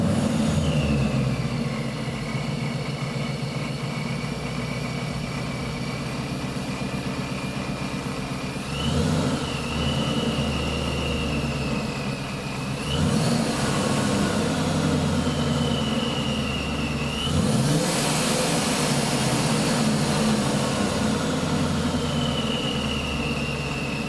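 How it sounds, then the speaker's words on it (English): 2019 Ford Mustang GT with a Vortech supercharger running close by, a steady idle rumble broken by several throttle blips, each swelling the engine roar and a high supercharger whine. "Now we're gonna fire it up, see how it sounds."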